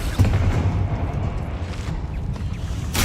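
A Confringo spell blast in the video game Hogwarts Legacy, a loud rumbling boom that rolls on for a few seconds, with a sharp new burst at the very end.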